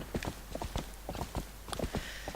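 Horse hooves clip-clop in the adventure game Zelda: Twilight Princess, a quick, uneven run of sharp hoof strikes close by, standing alone without talk.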